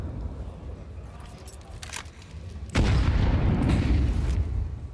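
A grenade goes off in a Counter-Strike match: a sudden heavy boom partway through that leaves a sustained rumbling wash, with gameplay noise around it.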